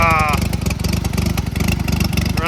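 A 1962 Allis Chalmers dozer engine with a freshly rebuilt carburetor runs steadily at idle, a close, loud, continuous low throb with rapid regular pulses throughout.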